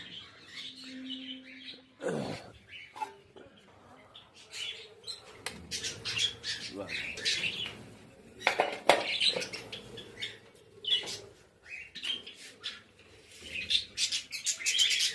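A flock of pet birds chirps and squawks loudly at close range, with sharp calls and bursts of wing flapping over a steady background of tweeting, no voices present.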